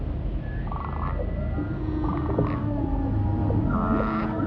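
Whale song in the Southern Ocean: drawn-out moaning and sweeping underwater calls rise and fall over a steady low ocean rumble, with several overlapping tones.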